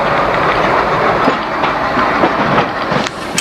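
A Humsafar Express rake being shunted at Prayagraj Junction rumbles past up close, with steady loud wheel clatter and rail noise throughout.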